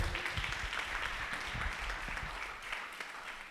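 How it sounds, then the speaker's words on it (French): A church congregation applauding during a service, a dense, steady burst of many hands clapping that fills the whole short moment and tapers slightly at the end. "Ok, acclamons pour lui."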